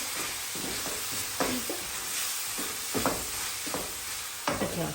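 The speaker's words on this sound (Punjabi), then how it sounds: "ਇਹਨਾਂ ਨੂੰ ਹੁਣ ਆਪਾਂ ਚੰਗੀ ਤਰ੍ਹਾਂ ਸਾਰੇ ਮਸਾਲਿਆਂ ਨੂੰ ਭੁੰਨ ਲੈਣਾ" Spices roast in a pan for a malai matar methi mushroom curry, a steady sizzle under repeated scraping strokes of a spoon stirring them at irregular intervals.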